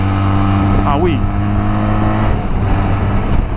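A Benelli TRK 502 motorcycle engine revs and pulls under acceleration while ridden, a close, steady, throbbing drone with pitch shifts, under a rider's talk.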